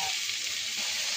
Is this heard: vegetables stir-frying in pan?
yes